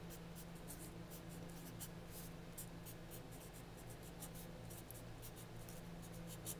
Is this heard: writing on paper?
yes